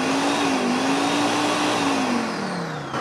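An electric blender whips egg whites for a lemon meringue pie, a steady loud motor whine holding one pitch that drifts slightly and sags near the end, running alone without voices.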